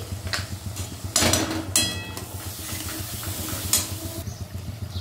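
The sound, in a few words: spice paste frying and being stirred in a pan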